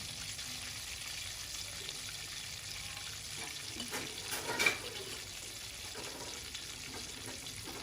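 Cheesy chili bites frying in hot oil, a soft, steady sizzle heard from close by and fairly faint, with a brief louder bubbling burst near the middle; no voices.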